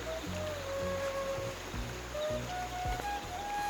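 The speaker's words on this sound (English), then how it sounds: "Just listen to the sound of the river flowing." A river flowing beside a green hillside trail near Nirgurpara on the trek to Harihar fort, a steady broadband rush of water with low rumbling surges and a faint thin whistle-like tone above, continuous with no talking.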